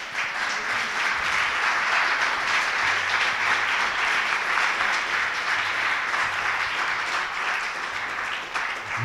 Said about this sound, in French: Je vous propose d'applaudir nos 4 intervenants.